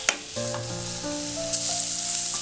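Vegetables frying in a pan with a little salt, stirred for an Indo-Chinese crispy chicken dish: a steady close sizzle with no talking, with faint tonal sounds running through it.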